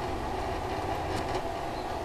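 A train rolling along in the physics puzzle game Human: Fall Flat, a steady low rumble and rattle of wheels on track that stays even throughout, with no talk.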